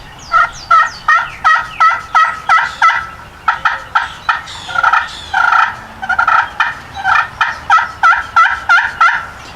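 A series of loud, high-pitched turkey yelps from a slate turkey call used for hunting, repeated in quick rhythmic bursts with short pauses between runs.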